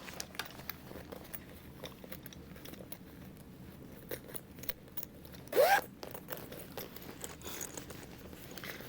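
A single quick zipper pull on a sewn hip bag rasps out close and clear around the middle, set against quiet rustling and faint handling noise.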